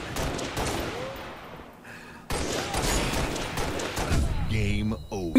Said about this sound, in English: He just killed himself with a grenade